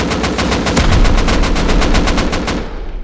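Rapid automatic gunfire in the Rust video game during a base raid, a loud, evenly spaced burst of shots that continues for a couple of seconds and then cuts off abruptly.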